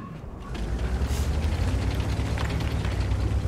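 A tank's main gun fires in a video game, one heavy boom that lands early and then rolls out into a long, low rumble under a mechanical hum.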